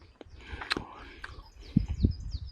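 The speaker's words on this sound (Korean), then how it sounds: "새소리 정말 좋아요." Faint bird chirps and short tweets from a distance, with some soft rustling and a few low thumps nearby.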